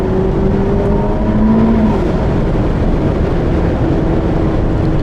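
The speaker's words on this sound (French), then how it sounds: "Il n'y a aucune voiture où j'ai déjà ressenti un tel boost quand tu mets pied au plancher en 2 ou en 3" A Ferrari SF90 Spider, a 1000 hp hybrid supercar, accelerates at full throttle, a loud, continuous engine roar with a rising tone, heard from inside the car as steady rumbling wind and road noise.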